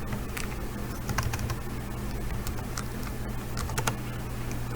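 Rapid clacking of keys on a computer keyboard, irregular bursts of typing close up over a steady low hum.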